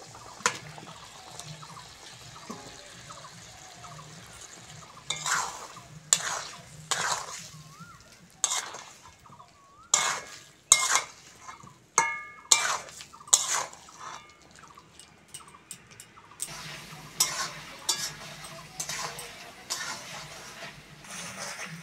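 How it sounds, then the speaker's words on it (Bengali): Vegetables being stirred and sautéed with spices in a pan for winter-vegetable khichuri, with a series of distinct scraping, sizzling strokes at a quiet, close level and short pauses between. "মশলার সঙ্গে ভালো করে সবজিটা কষে নিয়েছি"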